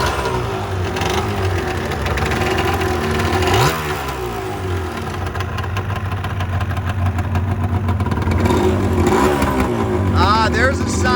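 A two-stroke motorcycle engine runs loud and close, idling unevenly with blips of revving throughout, while people talk over it.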